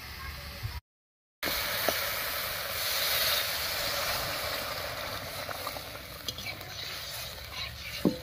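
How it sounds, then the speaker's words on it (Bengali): A little water added to oily fried spice paste in a pan for a fish curry, giving a loud, steady, close sizzling hiss with occasional soft stirring clicks. "এবার এর মধ্যে সামান্য একটু জল দেবো ঝোলের জন্য"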